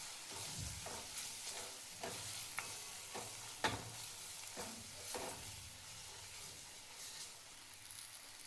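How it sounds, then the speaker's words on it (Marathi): Masala fries in oil in a pan, a soft steady sizzle broken by scattered stirring scrapes and taps, quiet and close with no voices. "तेलामध्येच भाजून घ्यायचा आहे हा मसाला."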